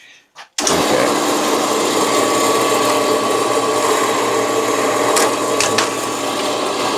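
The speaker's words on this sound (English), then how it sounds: "So I'm going to take this over to my bandsaw and cut it." A bandsaw cuts through aluminum while working on a Traxxas XRT part, a loud continuous high whine that starts abruptly and holds steady throughout, with a few sharp metallic bursts.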